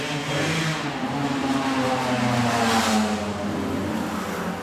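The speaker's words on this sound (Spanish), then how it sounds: "Si escuchan en la grabación una moto, ahí andan jugando unos jóvenes por ahí, paseándose." A motorcycle ridden by young people nearby, its engine droning and whirring loudly and steadily throughout, with a slight swell in the middle and no voices.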